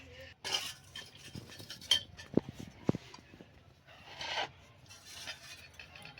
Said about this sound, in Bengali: আমি মাছটা আপনাদের কেটে দেখিয়ে দিই বন্ধুরা কেমন করে চিংড়ি মাছটা কাটতে হবে